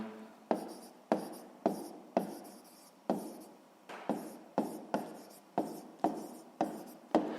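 Hand writing on paper while working a sixth-grade math exercise: quiet, close scratchy strokes in short bursts with brief lifts of the pen between them, a steady rhythm of pen marks with no talking.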